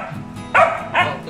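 A pet dog gives two sharp, close barks about half a second apart, set against a low murmur of voices and background noise.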